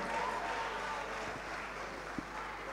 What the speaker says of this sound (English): He deserves a big round of applause for all his accolades, Mr. Traore.